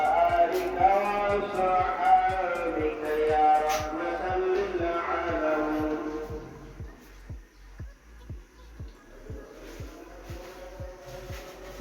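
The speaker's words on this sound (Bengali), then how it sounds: "জোহরের আজান দিচ্ছে।" Zuhr call to prayer carries from a distance, a sustained melodic chanting voice rising and falling, steady and moderately loud before fading after about six seconds, with a regular faint ticking pulse running underneath throughout.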